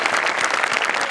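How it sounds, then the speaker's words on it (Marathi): A studio audience at a Marathi comedy show claps loudly, a dense continuous burst of applause. "सगळ्यात आधी आमिर हडकर यांच्यासाठी जोरदार टाळ्या"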